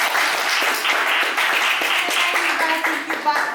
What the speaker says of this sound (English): let's send them with a round of applause